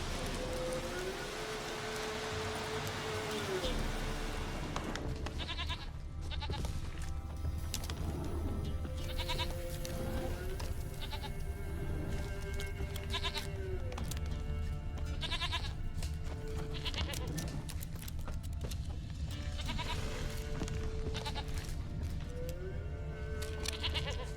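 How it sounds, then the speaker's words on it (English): A goat bleats repeatedly in The Witcher 3, with wavering calls recurring every few seconds over a steady bed of game ambience and rain-like background noise. "Here, goat."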